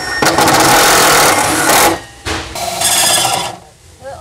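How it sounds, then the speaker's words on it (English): A tap being worked by hand into a drilled hole in metal while fitting an ambulance bottle holder, heard as loud, close grinding and rasping in long strokes with short pauses between them. "I've never tapped the hole before, so that'll be really interesting"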